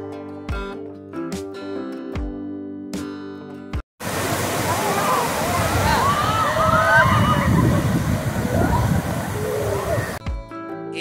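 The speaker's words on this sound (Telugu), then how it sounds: "ఈ భారీ రాళ్లపై నీళ్లు జాలవారడం" Water rushes and sloshes over large rocks at Chaparai waterfall, a loud steady roar lasting about six seconds, with music playing before and after it.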